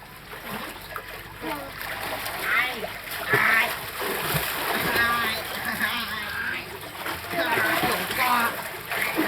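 Water is splashed to make waves, splashing and sloshing repeatedly in quick bursts, close by, while people talk over it.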